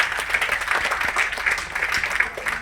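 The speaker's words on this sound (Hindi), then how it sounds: "एक बार जोरदार तालियां हो जाए।" An audience at an All India artist association award function applauds steadily, a dense wash of clapping filling the hall with some background voices mixed in.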